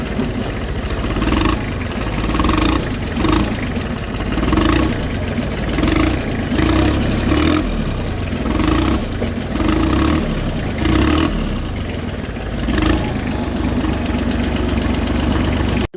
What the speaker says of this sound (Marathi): Tractor circle दाखवालाय.